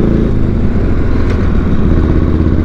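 A 1942 Harley-Davidson WLA motorcycle engine idles loud and close after a start, a steady low throbbing rumble with mechanical clatter and no voices.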